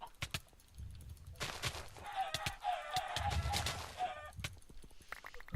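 Video game chickens cluck and squawk in a short flurry amid sharp percussive hits and clicks during PvP duels, fairly close and busy.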